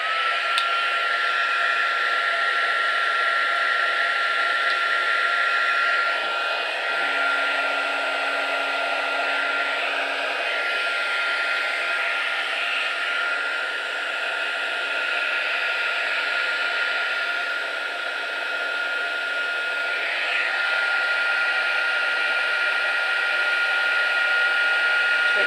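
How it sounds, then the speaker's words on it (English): A heat tool for heat embossing a card blows continuously like a hair dryer, a loud steady whooshing roar with a constant whine that runs unbroken for about 25 seconds. "Now I'm afraid it's going to get noisy, so I'm going to put my heat tool on."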